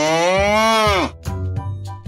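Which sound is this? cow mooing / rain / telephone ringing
cow mooing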